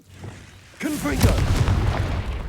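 A Confringo blast spell goes off in Hogwarts Legacy on PS5, a sudden booming burst that swells and hangs as a loud rumbling roar, with the player's voice close over it.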